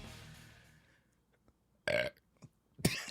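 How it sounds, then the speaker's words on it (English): A small, short burp comes after a few seconds of quiet room tone at a live comedy show, followed by a second brief, louder belch. "It wasn't even a good burp. It was a little shitty one."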